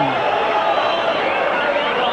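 Boxing crowd reacting during a bout, a steady murmuring roar of many voices rising slightly, heard alone without clear foreground speech.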